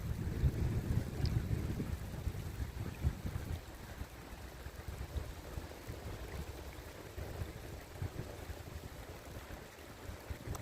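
Wind buffets the microphone outdoors in a regional park while a drone is flown, a low rumbling roar that gusts louder at first and then settles into a steady rush.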